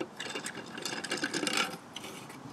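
A tile leveling system clip is tightened down on tiles, producing a close, quiet run of rapid ratcheting clicks and gritty scraping, with a brief louder knock at the end.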